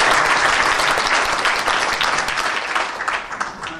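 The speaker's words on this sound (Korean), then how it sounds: "여러분 격려의 박수 부탁드립니다" An audience at a morning lecture forum in Incheon applauds to welcome a dance director, a loud, dense burst of many hands clapping that stays steady and slowly tapers.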